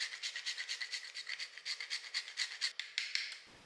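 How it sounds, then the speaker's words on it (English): Whole nutmeg grated into a potato pudding mixture, a steady run of close, scratchy rasping strokes in a quick regular rhythm that ends abruptly. "Now, I'm grating in about a teaspoon and a half of nutmeg."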